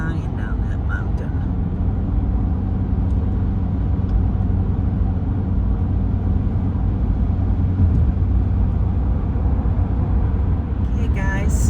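Car driving on a highway toward Quebec, Canada, past ski slopes and through a mountain notch: a steady, loud interior road and engine rumble running the whole time without a break.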